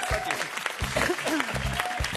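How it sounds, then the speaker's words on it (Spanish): A studio audience on the Pasapalabra game show applauds the blue team, a dense steady patter of clapping with voices talking over it throughout. "¡Aplausos para el equipo azul!"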